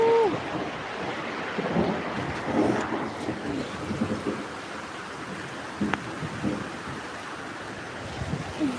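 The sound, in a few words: heavy rain with thunder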